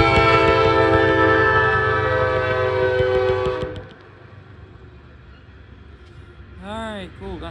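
A Norfolk Southern manifest freight train at Creighton, PA sounds a loud, sustained horn as it passes, then the rumble drops to a quieter clatter with faint tones near the end.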